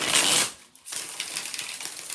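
Tarot cards riffle and slap together in a quick burst, a brief pause, then a longer run of papery shuffling.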